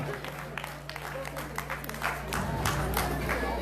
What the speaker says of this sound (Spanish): Un fuerte voto de aplauso para la princesita carnavalera.